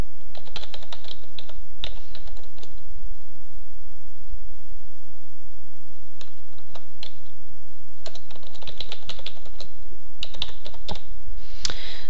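Bursts of keyboard typing with quick clicking keystrokes, pausing between runs, close by with a faint steady hum underneath.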